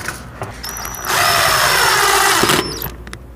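A power drill drives a screw to fasten the tailpiece onto a cigar box guitar, a loud close whine lasting about a second and a half, framed by light handling clicks.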